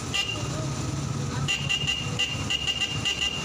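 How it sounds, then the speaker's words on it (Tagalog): Repeated horn beeps from a Yamaha STX125 motorcycle, whose horn is wired through a Raider 150 switch, sounding as short high toots that start about halfway through over steady background noise and traffic. "So ito yung busina."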